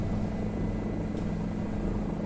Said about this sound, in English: make the helicopter balloon like crazy once you get close to them